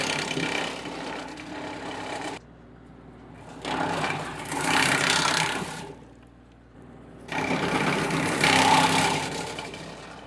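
A tractor PTO-driven Farmry 5-inch wood chipper (WCAP 5) runs with a steady mechanical drone, broken by three long, loud bursts of grinding and shredding as wood is fed through.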